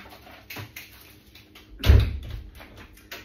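A house door is pushed shut after dogs are let out into the garden. One firm, fairly loud thud lands in the middle, with a few soft knocks and rustles around it and no talking.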